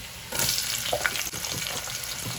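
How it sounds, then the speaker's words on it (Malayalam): Onion goes into a pan of frying ginger and garlic for a masala rice and crab curry, giving a steady close sizzle with stirring scrapes throughout. "ഇനി നമുക്ക് കുറച്ച് സവാള ഇട്ട് കൊടുക്കാം"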